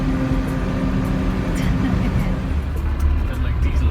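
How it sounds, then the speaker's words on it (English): A car driving along the Campbell Highway in the Yukon, with a steady, loud engine and road rumble from inside the cabin throughout. "There is Fabian driving again in underwear."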